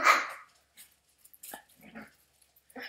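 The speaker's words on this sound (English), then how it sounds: "Puppies!" A sharp, close puppy yap opens, followed by scattered high-pitched little yips and whimpers with quiet gaps between.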